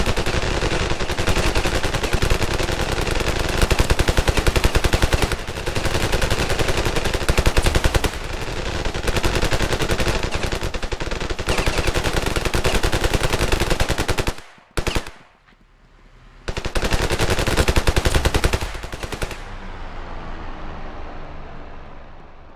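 Sustained rapid automatic gunfire from the video game Ravenfield, loud and dense with near-continuous bursts, a brief pause around fifteen seconds, then firing resumes before fading out.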